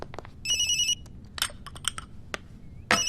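A telephone rings in a repeated electronic ringtone pattern, clear and fairly close, with brief bursts of other sound around it and a final ring starting at the end.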